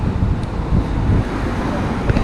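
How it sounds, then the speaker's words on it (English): Wind gusts across the coast near St Michael's Mount, a steady low rumble on the microphone through the short stretch, with a faint hint of a voice. "it's a bit windy down here though today"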